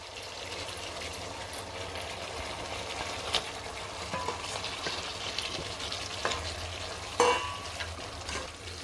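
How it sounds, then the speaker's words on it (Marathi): Prawns simmering in a thick gravy for kolambi bhat while being stirred, a steady soft sizzle broken by scraping and clinking spoon strokes against the pan. "आता आपण याच्यामध्ये कोळंबी घालूया ग्रेव्हीमध्ये चांगली कोळंबी शिजली जाईल आपली"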